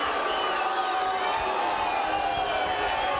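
A tennis crowd at the 1993 San Diego final murmurs in a steady loud wash of voices, a displeased reaction rising after a baseline call.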